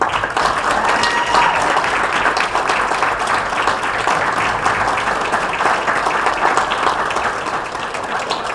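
Dense, loud audience applause at an Elks Lodge show welcoming comedian Perry Kurtz, sustained evenly for several seconds with scattered cheers in the crowd.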